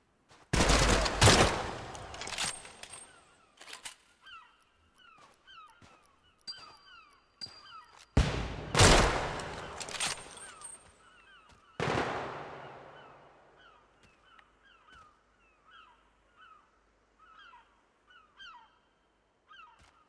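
Sniper gunfire in an online multiplayer raiding game: several loud, sharp gunshot blasts with long ringing tails, separated by quieter stretches holding faint repeated electronic blips and a distant pattering of smaller shots.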